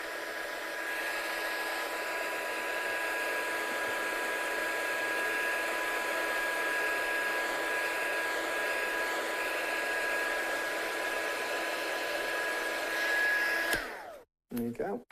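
A heat gun blows hot air over wet ink on a handmade card, a loud, steady whirring hiss held for about fourteen seconds before it cuts off abruptly.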